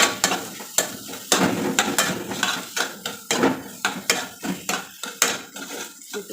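Potato masala seasoned with salt and turmeric is fried and stirred in a pan for aloo paratha. A metal spatula scrapes and clinks in a steady, repeated rhythm over a soft sizzle, with no talking.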